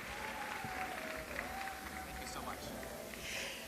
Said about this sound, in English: If you love Machawe, let the applause sustain until he comes on stage.